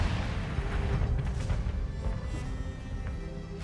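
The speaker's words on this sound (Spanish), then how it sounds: "Primero, el silencio se rompe con la explosión." A volcanic eruption in Guatemala roars as a continuous, heavy low rumble with rolling booming bursts, loud and unbroken through the whole stretch, with no voices.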